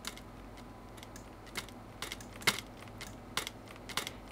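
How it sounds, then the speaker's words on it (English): Dry mechanical clicks from an accordion keyboard's keys, a handful of sharp irregular taps and clacks spaced through the clip, close and quiet over a soft background hiss. "I've recorded the keyboard of an accordion, and it has some nice clicks"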